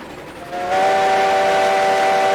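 A steam locomotive whistle in the train game Railroads Online kicks in after a brief murmur, then holds as a loud, sustained, shrill chord to the end.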